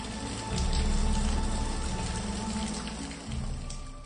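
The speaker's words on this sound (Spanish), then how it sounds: "Como estaba comenzando nuevamente la lluvia" Rain falls steadily and fairly close, a dense patter that swells briefly and then holds at an even level, with no talking.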